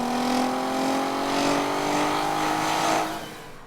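A Volkswagen Golf R32 with a 3.2-litre V6 drives hard, the engine note rising and falling through several revs before easing off near the end, loud and continuous with no voices.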